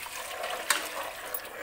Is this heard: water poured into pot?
yes